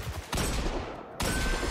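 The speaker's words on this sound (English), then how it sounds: "this hand cannon does sound good though" A hand cannon firing in the video game Destiny 2, two heavy, punchy single shots about a second apart, each with a sharp crack and a lingering roar, loud and up close.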